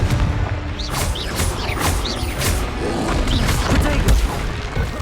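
Magical spell blasts from Confringo in Hogwarts Legacy erupt as booming, crackling explosions amid busy combat effects and whooshes, loud and continuous throughout.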